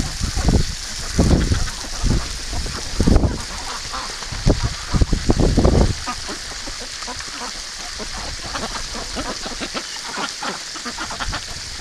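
A garden hose sprays water steadily over pet ducks, a continuous hiss mixed with splashing, while quacking and honking bursts come thick early and then thin out as the spray carries on.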